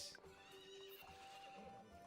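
A horse whinnies in the video game Story of Seasons: Friends of Mineral Town over steady background music, a high wavering neigh rising briefly above the tune, with a faint clip-clop beneath.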